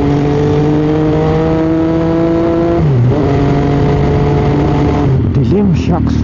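An MV Agusta F3 sport motorcycle engine revving on a road at night, the pitch climbing and dipping with a brief drop midway, loud and close, with voices faintly underneath.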